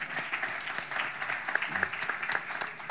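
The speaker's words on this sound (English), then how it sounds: "So let's just give them a big round of applause." An audience gives a panel discussion a round of applause, dense overlapping claps with a few sharper individual hits, sustained throughout and fairly close.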